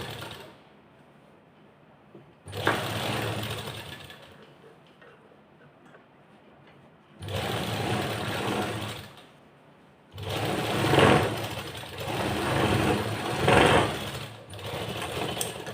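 A sewing machine stitches a sleeve onto a garment in three separate close runs of fast, steady whirring, with quiet pauses between the bursts and no talk.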